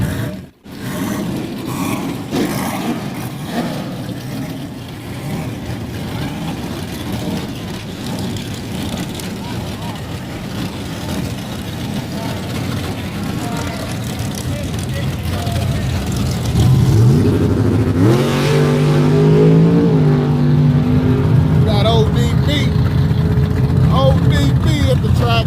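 Turbocharged 5.3 LS-swapped C10 truck running E85 at a drag track, a loud sustained engine roar that swells and rises in pitch toward the end, with a steady rumble throughout.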